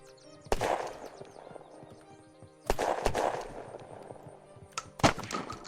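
Pistol shots from the video game Unturned, a Desert Falcon or Ace: three sharp, loud, close reports spaced a couple of seconds apart, each followed by a short decay, with no talk.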